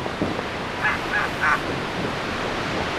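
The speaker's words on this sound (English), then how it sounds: "The Bering Sea also supports the ultimate winged predator, the giant Steller sea eagle." A giant Steller sea eagle calling on the Bering Sea coast of Kamchatka, three short honking cries in quick succession heard over a steady wash of surf and wind.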